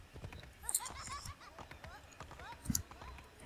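Horse hooves gallop in a colonial-era Assassin's Creed III video game, a rapid, steady clip-clop at moderate loudness with game voices and ambient noise mixed in.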